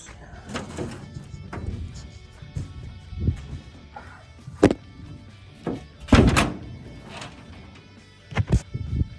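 The tailgate of a rusty Dodge D100 pickup truck is worked open and shut. Close metallic clunks and thuds are scattered through the clip, with one louder slam and some rattling, and no talk is heard.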